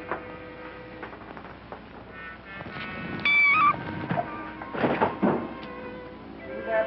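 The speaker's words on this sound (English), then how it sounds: "Just those cats, please." Cats meowing in a 1940s film scene, several drawn-out cries rising and falling in the middle of the stretch, with scattered thumps and softer cries around them.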